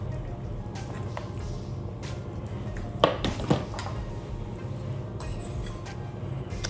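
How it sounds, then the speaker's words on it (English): Pasta salad with noodles, cucumber and tomato being served into a bowl: two clinking scrapes of a utensil against the dish stand out over steady kitchen background noise, with soft rustling around them. "So I'm going to put some in a bowl so that I can taste it."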